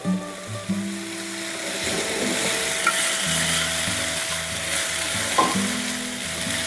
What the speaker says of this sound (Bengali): আদা রসুন দিয়ে আরো 3 মিনিট ফ্রাই করব।